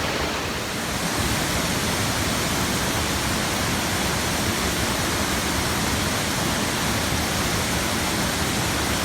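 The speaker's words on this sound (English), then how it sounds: "Absolutely stunning waterfall." A waterfall in Coed-Y-Brenin forest, Wales, roars as a dense, constant rush of falling water, loud and close, filling the whole stretch with no voices.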